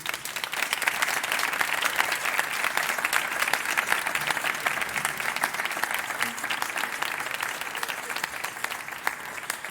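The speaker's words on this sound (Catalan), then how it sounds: "Un fort aplaudiment." Loud, dense applause from a large concert audience for a town music band, sustained and even throughout with no talking.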